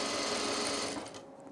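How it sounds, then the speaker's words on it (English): A sewing machine runs steadily while hemming over elastic for a quick tool case, a close, continuous whir that fades and stops near the end. "So now I'm just going to hem this over."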